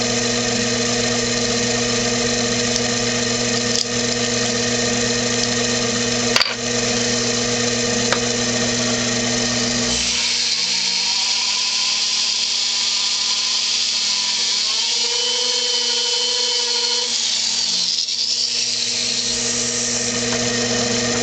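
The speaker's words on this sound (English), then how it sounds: "I shut my lathe off." A lathe driving a Butterworth pivot polisher fitted with a pink polishing wheel: a loud, steady motor whine with a strong tonal hum, a faint tick or two, then the tone shifts and settles lower about halfway through, changing again near the end.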